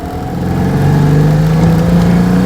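An upgraded Citroen 2CV twin engine with a 650 conversion pulls from low revs, a loud steady drone whose pitch climbs gradually as it accelerates, heard up close without speech.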